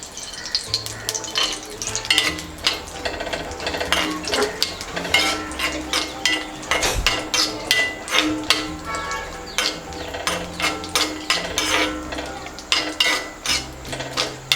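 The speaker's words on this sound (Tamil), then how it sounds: "நம்ம இந்த கேஷ்யூ நட்டை வந்து நெய்யில் வறுத்து எடுத்துக்கலாங்க" Cashew nuts roast in ghee, with quick, steady scraping and clattering of a spoon against the pan over a low sizzle, close up and lively throughout.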